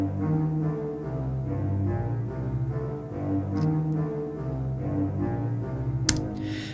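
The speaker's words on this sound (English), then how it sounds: "doubled those with the bass clarinet, the contrabassoon, and the contrabass clarinet" Orchestral low woodwinds play together in marcato: bass clarinet, contrabassoon and contrabass clarinet. They give a dark, sustained low passage of detached, accented notes at moderate volume with no talking.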